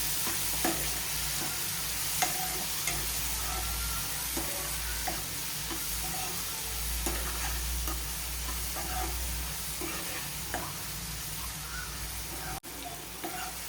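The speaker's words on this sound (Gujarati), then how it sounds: "થોડી થોડી વારે હલાવતા રહીશું।" Ridge gourd curry with red chili powder and spices cooking in a pan, stirred now and then: a steady low sizzle with intermittent spoon scrapes and clicks.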